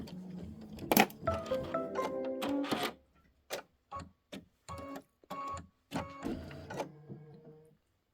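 Home embroidery machine stitching stars on a Kimberbell Enchanted Winter mittens quilt block: close, rapid mechanical whirring bursts, then a rhythmic series of short stitching pulses separated by brief pauses.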